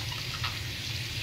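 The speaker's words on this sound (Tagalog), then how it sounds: "Una, hugasan natin ng tubig para malaman nyo" Tap water runs steadily over an apple coated with wax, a continuous close splashing wash with no talking.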